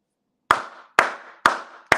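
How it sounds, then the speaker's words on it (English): A streamer claps his hands four times at a steady, moderate pace, each sharp clap sounding close and loud against an otherwise silent background, with no talking. "Y'all know what that means when I start clapping, right?"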